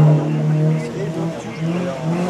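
A race car at a hill climb event in Quettreville, 2019, roars past with a steady, loud engine drone that swells and eases, while an announcer talks over it.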